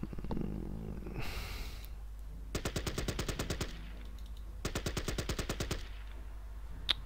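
A CV-33 tank in the strategy game Battle Academy fires two rapid machine-gun bursts, each about a second long, separated by a short quiet gap, with a softer whoosh just before them.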